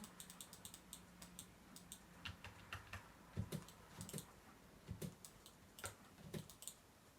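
Soft, quick keystrokes tap on a computer keyboard in irregular bursts, with a few louder clicks, close and quiet, alone with no talking.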